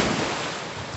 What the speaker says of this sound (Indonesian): menikmati debur ombak pagi yang sangat menyegarkan